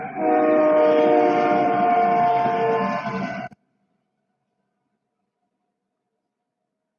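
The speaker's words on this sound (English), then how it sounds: "Train." A loud, sustained train horn blares close by for about three and a half seconds with rich, steady tones, then cuts off abruptly into silence.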